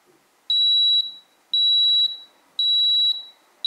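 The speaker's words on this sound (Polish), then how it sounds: "teraz powinien e, sygnał dźwiękowy się pokazać" A Brabantia Profile digital kitchen scale timer beeps in three repeated bursts of rapid high-pitched tones, each lasting about half a second, with short quiet gaps between them.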